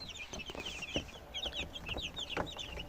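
A broody hen clucks softly and repeatedly close by, with high chirping calls overlapping throughout.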